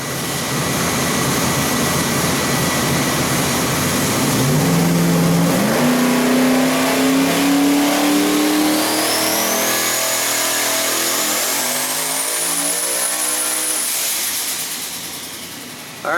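Single-turbo LS engine making over 1,900 hp on a dyno pull: loud sustained roar with rising pitch as revs climb, turbo whine sweeping upward, then a sudden cutoff near the end.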